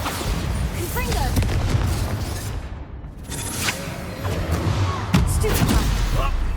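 Bombarda and Confringo spell blasts explode in a Hogwarts Legacy battle, with loud booming bursts over dense, continuous combat noise and a sharper thump near the end.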